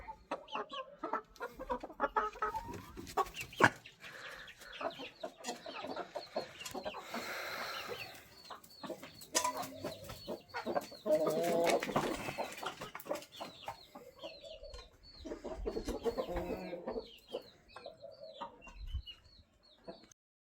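A hen clucks repeatedly among her chicks in a farmyard, irregular close bursts of clucking mixed with thin peeping, scattered through the clip with brief pauses.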